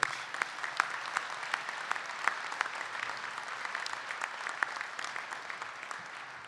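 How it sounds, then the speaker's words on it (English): A crowd at a Kansas City Hall of Fame enshrinement applauds the inductees, steady sustained clapping with crisp individual claps standing out, fairly distant and unbroken by talk. "How about a round of applause for our Hall of Famers?"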